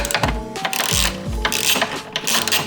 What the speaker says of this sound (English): that should reveal an 8mm bolt down there. We just have to loosen that up.